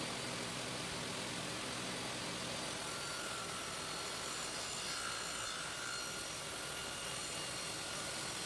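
Continuous buzzing power-tool noise, steady and loud, like a saw or trimmer cutting through wood without pause, trimming the side pieces of a bedside cabinet flush with the top.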